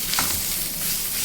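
Canned tuna dry fry is stirred in a hot pan, with a steady loud sizzle and a few scraping strokes of the spoon close by, continuous and without speech.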